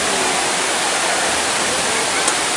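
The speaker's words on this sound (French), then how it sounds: "il y a une cascade qui est juste à côté qui est trop jolie" A waterfall beside a park in Istanbul pours out a loud, continuous rushing roar, dense and unbroken throughout with no distinct splashes.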